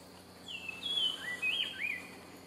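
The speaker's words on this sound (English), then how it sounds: "Spot-breasted wrens were generally fairly common, but usually heard rather than seen." Spot-breasted wren singing in Belizean forest, a short series of clear, rich whistled phrases rising and falling, moderately near over a faint steady background hum.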